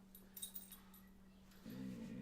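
Unwell dog after a vet visit, giving faint soft whimpers over a low steady hum, with a louder tonal whine rising near the end.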